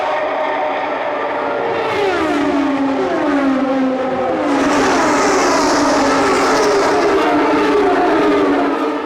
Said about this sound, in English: Green flag waving. The green is out, and the race is on.